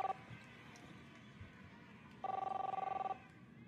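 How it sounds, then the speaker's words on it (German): Telephone in the video game Captain Spirit rings in two bursts, a brief electronic trill at the start and a longer steady ring later, clear over a faint game background. "Chris, answer the phone, please."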